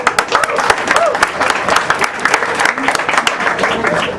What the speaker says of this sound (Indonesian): Maka mari kita berikan aplaus yang paling meriah untuk Munir